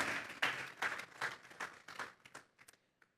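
A church congregation at an afternoon service claps in unison, a string of sharp, fairly rhythmic claps that soon thin out and fade to a few scattered last claps, with no talking.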